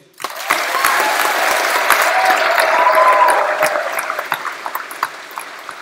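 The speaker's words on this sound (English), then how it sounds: "Everybody, please give our UCOL 2018 graduates a big hand." A large audience at a university graduation ceremony breaks into sustained, loud applause that swells and then thins into scattered claps, with a few sharp pings near the start.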